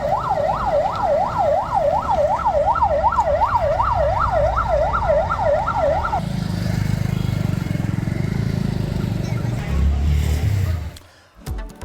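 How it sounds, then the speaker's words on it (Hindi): An ambulance siren wails in a fast, repeating up-and-down pattern near a blazing steel plant fire, loud and steady for several seconds before cutting off to a low engine rumble and traffic noise. "एम्बुलेंस की देखिए यहां पर यह आवाज ये दर्शा रही है कि वाकई में बहुत भीषण आग है"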